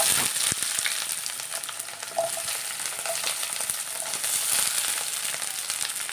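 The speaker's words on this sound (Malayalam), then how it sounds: "നമുക്ക് കറിയിലേക്ക് ഈ സവോളയും തക്കാളി ഇഞ്ചി വെളുത്തുള്ളി എല്ലാം കൂടെ ഒന്ന് വഴറ്റിയെടുക്കാം" Onion, ginger, garlic and tomato sautéing in a pan for a Kerala-style fish curry, a steady close sizzle and crackle with occasional stirring scrapes throughout, no talk.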